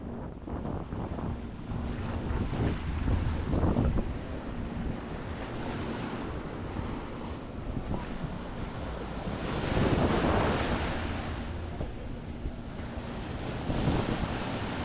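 Sea waves roll onto a beach at Playa Mamitas in a steady, continuous wash with swelling surges, heavy wind buffeting the microphone and no voices.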